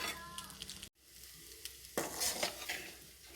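Leftover rice with vegetables, homemade beans and fried egg is stirred in a pan, faint sizzling with scraping and clinking of the utensil against the pan, briefly cut out and then resuming.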